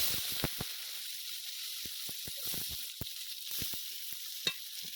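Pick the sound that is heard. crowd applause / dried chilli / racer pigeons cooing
dried chilli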